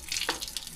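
Water is squeezed through a portable water filter on a trail, giving a short, close hissing trickle and splash that runs continuously for under a second with no voices.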